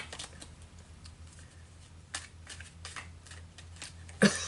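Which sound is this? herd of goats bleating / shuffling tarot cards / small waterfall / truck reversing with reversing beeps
shuffling tarot cards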